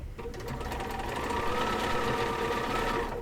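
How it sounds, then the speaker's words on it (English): A sewing machine stitching a ruffled pillowcase runs in a fast, steady, close-up mechanical whir with rapid needle rattle for a few seconds, and no one speaks. "Now I can sew faster."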